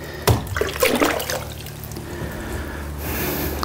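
Water being poured or splashed while testing a Kärcher WD 2 wet and dry vacuum, a short burst of close liquid splashing followed by steady running water and a continuous machine hum.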